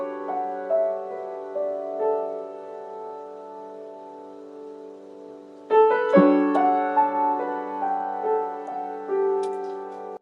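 Solo piano piece in Kalyani raga, a Lydian-like scale, playing sustained melodic notes that grow fuller and louder partway through, with no talking.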